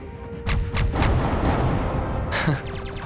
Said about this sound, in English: Little balls of fire. That sounds like a firework kind of thing.